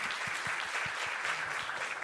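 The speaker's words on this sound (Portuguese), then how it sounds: "Salva de palmas." Audience applause at the close of a discussion panel on narrating the Nordeste, a steady spatter of claps filling the hall, moderately faint and without talk.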